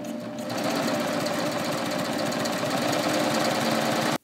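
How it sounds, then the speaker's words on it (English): A Babylock Ovation serger runs steadily while stitching light blue lightweight knit fabric, giving a loud, even, rapid mechanical whir that starts at once and holds for about four seconds before cutting off. "let's see what happens when I try to feed this under the presser foot"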